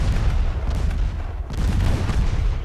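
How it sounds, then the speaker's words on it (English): Torpedoes launch from a warship in a naval strategy game set in a 1925 Norwegian campaign. A dense, loud low-end rumble of booms and thuds continues for a few seconds with repeated muffled bursts and no voices. "There you go, torpedoes heading out."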